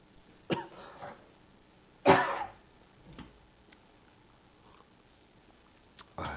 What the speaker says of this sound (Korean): 요즘 면역력이 좀 막 떨어져서 기침이 많이 나와요.